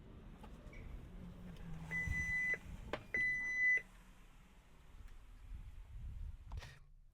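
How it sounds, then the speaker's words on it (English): Two electronic beeps sound from a distance, the second held slightly longer than the first, over a quiet, low ambient rumble. "I heard in the distance a beep"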